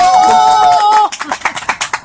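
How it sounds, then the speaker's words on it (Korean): A quick run of rhythmic clapping from an audience at a talk show held at a protest sit-in site, following a sustained tonal sound, with the claps spaced fairly evenly and close. "박수 한번 보내주시기 바랍니다"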